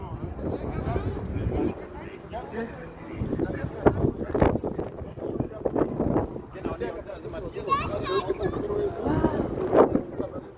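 Strong wind at sea among sailboats, gusting and buffeting the microphone steadily throughout, with people talking over it close by.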